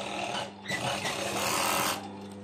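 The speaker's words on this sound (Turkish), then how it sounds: "Ve omuzları dikiyorum gördüğünüz gibi" A sewing machine stitches the shoulder seams of a garment, whirring up loudly for a run of about a second and a half after a short start, then slowing back to a quieter hum.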